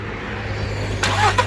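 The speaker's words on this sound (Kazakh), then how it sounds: "оталдырып жүрші машинаны." A Volkswagen Polo fitted with a homemade ignition coil cranks and catches near the end, a short burst of engine noise rising over a steady low hum.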